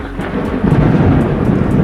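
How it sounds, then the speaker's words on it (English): Heavy rain pours steadily over a village surrounded by green hills near a river, with low rumbling thunder rolling throughout and no voices present. "But one day, it rained very heavily."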